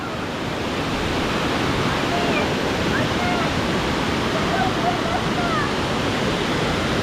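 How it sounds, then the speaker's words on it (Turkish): Steady broadband rush of spring water pouring out between stones at Tomara waterfall in Gümüşhane, a constant close roar with no pauses, and a few faint bird chirps mixed in. "Direkt içme suyu, kaynak suyu. Taşların arasından çıkıyor."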